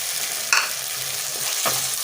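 Potatoes being stirred into a sizzling, well-fried spice masala for a Bengali cauliflower and egg curry, with two distinct scraping stirs over a soft, steady frying hiss.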